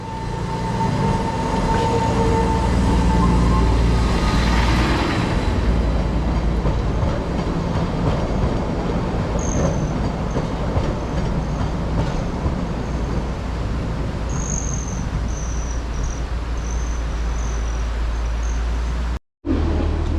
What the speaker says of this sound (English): the train backed out for some reason and eventually came on this side of the track